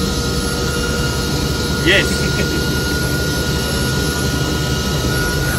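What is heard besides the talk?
helicopter in flight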